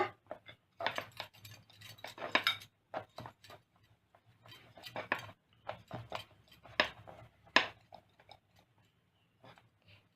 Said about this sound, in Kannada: ನೋಡಿ, ಇಷ್ಟಿಷ್ಟು ಸೈಜಲ್ಲಿ ಲಟ್ಟಿಸ್ಕೊಂಡ್ಬಿಡ್ಬೇಕು